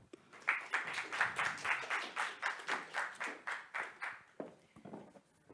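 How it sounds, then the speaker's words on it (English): Audience applause at a Studium Generale lecture at Tilburg University, a series of regular, rhythmic claps of moderate loudness that thin out and slow toward the end. "So please give a big applause to Silvia De Conca."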